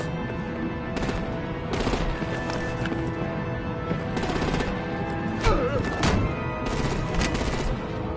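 Gunfire in the video game Batman The Enemy Within, with rapid bursts of shots over a dense, continuous battle din of rumbling and clatter, loud throughout.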